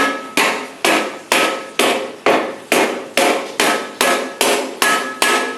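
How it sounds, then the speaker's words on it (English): A hammer strikes a sheet metal Ford Model T door panel over a wooden edge in a steady, even rhythm, about a dozen sharp ringing blows, each decaying quickly, loud and close with no talking. "you can hammer it over this edge here to turn it like"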